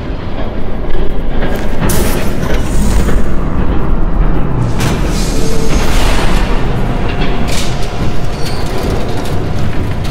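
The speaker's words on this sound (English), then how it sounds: "There's a train coming." A train approaches in Batman: The Telltale Series, Episode 3, a loud continuous rumbling roar with heavy low-end weight and rising clatter, steady for about ten seconds with no speech over it.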